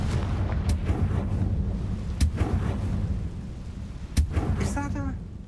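Confringo spell explosions in the Hogwarts Legacy video game: three sharp, booming blasts at spaced intervals, each rising above a steady rumbling game backdrop, with a brief chiming flourish near the end.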